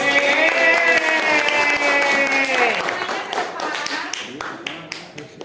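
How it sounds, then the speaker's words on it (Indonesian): Students in a class session clap for group 5. Loud drawn-out voices cheer first, then give way to a looser run of sharp, close hand claps. "tepuk tangan untuk kelompok"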